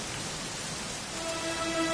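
Rain falls in the video game Dragon Quest XI, a soft, steady hiss of drops that swells slightly toward the end, with a faint tone rising underneath.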